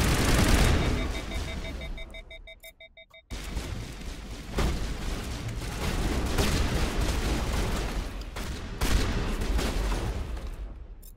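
Assault rifle fitted with the Overkill mod fires in Mass Effect Legendary Edition, loud sustained bursts of automatic gunfire with a brief pause, then continuous rattling shots and impacts.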